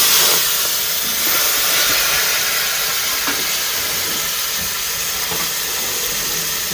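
Hot oil with turmeric for palak bhaji gives a loud, unbroken hiss that stays steady close to the pan, with faint clicks and no voices.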